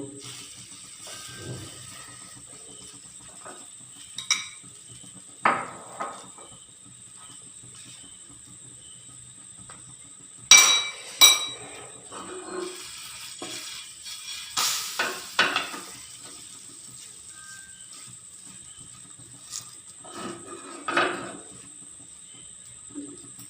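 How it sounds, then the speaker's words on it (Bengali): A snack fries in oil in a pan, giving a soft, steady sizzle with scattered clinks and scrapes of a utensil breaking through at intervals. "এই পিটুপুট করে এবার একটু ভেজে নেব"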